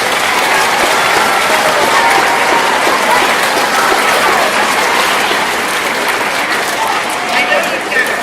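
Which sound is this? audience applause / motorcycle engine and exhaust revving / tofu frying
audience applause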